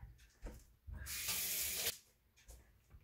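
Kitchen tap water gushing into a sink to soak salad greens, a loud hissing spray for about a second, with fainter handling knocks and splashes before and after.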